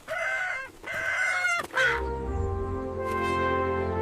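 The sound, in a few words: rooster crowing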